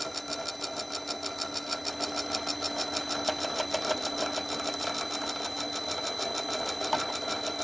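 A home-built gear hobbing machine runs steadily at a faster speed, giving a continuous mechanical whir with a fine repetitive ticking texture, fairly quiet and close, with no talking.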